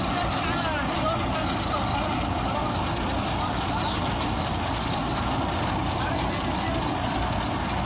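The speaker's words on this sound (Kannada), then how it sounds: "ಒಳಗಿನೆಲ್ಲ ಮಷಿನ್ ಚಾಲು ಐತಲ್ರಿ ಫ್ರೆಂಡ್ಸ್ ಪಂಜಾಬಿದು" A Punjab-made harvester machine in a farm field, running in gear with its internal mechanisms engaged: a loud, continuous, broadband engine and machinery roar that stays steady throughout, with nothing else standing out.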